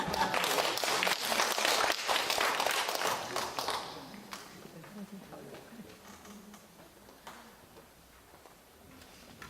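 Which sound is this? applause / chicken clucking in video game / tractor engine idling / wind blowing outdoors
applause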